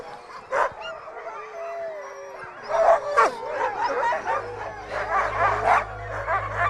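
Many sled dogs bark, yip and howl together in an excited chorus, close by, with overlapping cries and a low rumble underneath.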